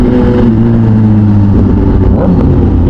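A Kawasaki ZH2 motorcycle engine revs loud and close, a steady throaty drone holding high revs throughout with a slight rise near the end, no voices.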